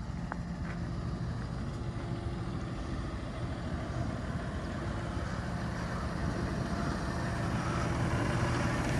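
A Fendt 716 tractor hauling a Deves AC 180 carrier drives along steadily, its engine a continuous broadband rumble with no breaks and no voices.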